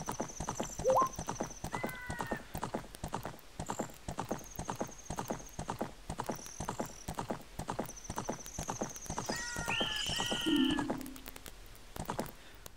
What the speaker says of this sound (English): I got caught while I'm on my horse